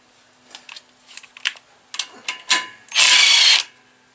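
A ratchet with a 3/8 socket works on a 14.5 Briggs engine: several short bursts of clicking, then one longer, louder run of rapid ratcheting up close, with no talk.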